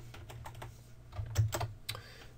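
Keys clatter on a computer keyboard in a short run of close, crisp taps, ending in a firmer press of the enter key while working in CAD software; no one speaks.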